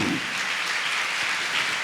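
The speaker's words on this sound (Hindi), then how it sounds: "तालियां बजा के हम धन्यवाद दें परमेश्वर को।" Church congregation applauding during a Hindi-language healing service, a steady wash of many hands clapping at moderate volume, continuous without a break and with no voices over it.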